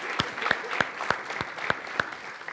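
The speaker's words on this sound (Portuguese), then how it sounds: "penso que merecem uma salva de palmas de solidariedade" Audience at the Palácio de Belém giving a round of applause, with sparse, distinct claps, some sharp and close, falling in a loose, fairly regular rhythm over a soft background.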